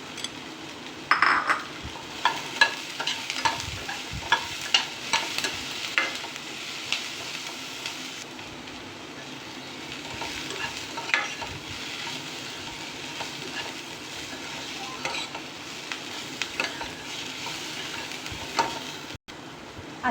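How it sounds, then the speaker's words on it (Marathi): Chopped raw tomatoes sauté with onion in a pan for a tangy chutney, giving a steady sizzle broken by frequent spatula scrapes and stirring clinks against the pan, with no talking. "हे टोमॅटो जवळपास चांगले परतले गेलेले"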